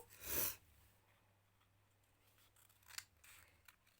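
Scissors snip once through a sheet of chocolate-like material being divided into equal parts, a single quick cut near the start followed by fainter rustles and small handling sounds in a quiet room.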